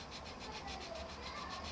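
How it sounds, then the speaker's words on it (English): Printed numbers are being sanded off a ruler, a quiet, soft rhythmic rubbing of short back-and-forth strokes close by. "carefully sand away all the numbers"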